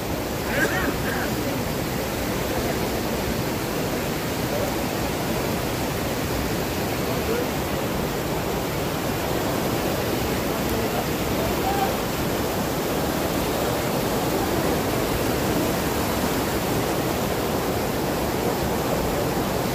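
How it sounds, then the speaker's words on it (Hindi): Water rushes in a steady, broad roar like a waterfall, unbroken from start to finish, with nothing else standing out over it. "ये झरना जो है नीचे की तरफ घाटी में बह जाता है"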